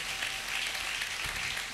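A church congregation applauding the Lord during a Sunday service: a brief, steady wash of dense clapping from many hands, filling the room evenly without pauses.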